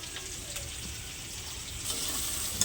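Spice mix frying in a pan with onion and green chilli for stuffed pointed gourd gives a soft, steady sizzle with faint stirring, fairly quiet and continuous, getting a little louder near the end.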